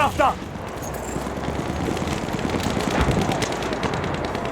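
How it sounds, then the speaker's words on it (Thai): Enemy machine gun fire in Battlefield 1, rapid rattling bursts under a dense wash of battle noise, with voices talking over it. "Düşman makinalı tüfeği."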